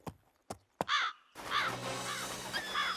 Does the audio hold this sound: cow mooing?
no